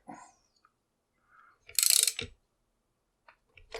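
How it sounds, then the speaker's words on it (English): A mechanism is cranked to tighten a tamper-evident one-time-use padlock seal, giving a few short ratcheting clicks, then a louder grinding burst near the middle, with quiet gaps between. "All right, so we're just going to crank on it. And keep cranking on it."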